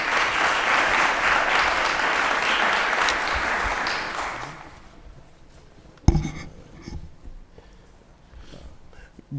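Applause from a city council meeting audience in Lowell fills the first several seconds as a dense, steady clatter of clapping, then fades out, leaving a quiet room with a sharp knock and faint shuffling.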